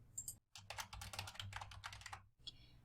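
A campaign name is typed on a computer keyboard in a quick, steady run of close key clicks and taps, with a brief pause near the start and a few scattered keystrokes at the end.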